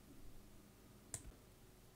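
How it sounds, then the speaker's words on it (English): Scissors snip through a patterned paper banner in a quiet room, making two brief, sharp clicks about a second apart. "so I'm using my scissors"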